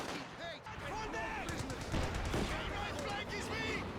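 Infantry rifle fire from a Company of Heroes 2 battle, with PTRS anti-tank rifles and riflemen shooting at Grenadiers. Sharp shots crack irregularly over a busy battle din while a voice talks throughout.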